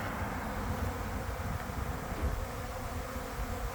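Bee swarm resting on a tree near a factory, a faint dense buzzing hum that continues steadily without pause.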